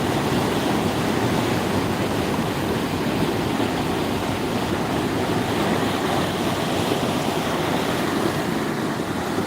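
Water rushes in a steady, loud roar without a break, a broad churning wash of the Chandani river in flood at Sirsav.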